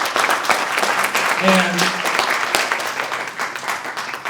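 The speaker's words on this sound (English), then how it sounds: "Clap it up for David, y'all." An audience applauding at an outdoor announcement of a home mortgage initiative, sustained dense clapping with a few cheers, and a voice speaking briefly over it.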